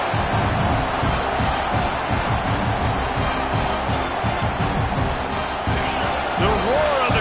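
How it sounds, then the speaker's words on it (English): A stadium crowd in a college football video game, Tennessee at Washington, roars as a dense, loud, continuous wash of cheering and noise, with rhythmic thumps running through it and a commentator talking over it. "The roar of the crowd trying to fuel this defense to keep them pinned in their own end."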